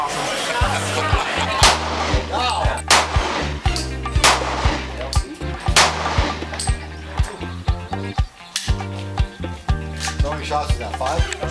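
Loud, sharp gunshots at an outdoor shooting range, fired one at a time at irregular intervals, with people talking between and over the shots.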